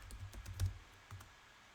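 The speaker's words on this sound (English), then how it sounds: "let me type in my secret code here" Someone tapping on a computer keyboard to type a code, a handful of quiet, close clicks clustered in an uneven burst, then a short pause and a couple more keystrokes.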